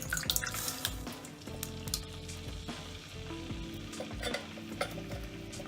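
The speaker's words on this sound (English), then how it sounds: "My pasta's really boiling over there." Fusilli pasta boiling hard in a pot on the stove, a steady bubbling, sizzling roil with small clinks and stirring scrapes throughout, no talking.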